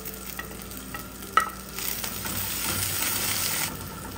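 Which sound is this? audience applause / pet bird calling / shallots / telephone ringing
shallots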